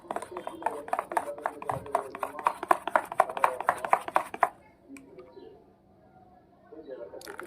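Dhokla batter being beaten vigorously in a bowl, a rapid rhythmic tapping and slapping of the whisk that runs loudly for several seconds, then stops, leaving quieter handling sounds.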